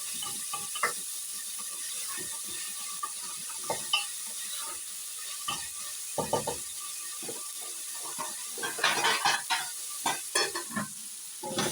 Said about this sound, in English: I'm going to add in the vegetables on the already cooked onions and give it a stir.